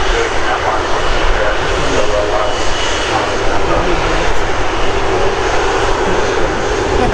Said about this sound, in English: Airbus A350 is very shortly outbound to Atlanta. First of today's Virgin Atlantic departures